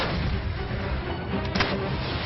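Artillery guns fire in a loud, dense barrage, with booming blasts and a sharp report near the middle, all heard up close with no voices.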